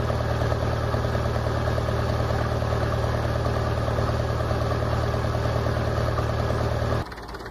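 A tractor engine idles steadily in a field during ploughing, a loud continuous rumbling drone that cuts off abruptly near the end.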